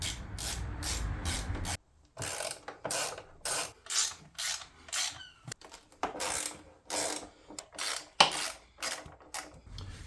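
A ratchet and hex socket work the undercowl bolts on a Honda XL700V Transalp motorcycle, giving bursts of quick metallic clicking separated by short pauses and tool clinks, close and fairly quiet.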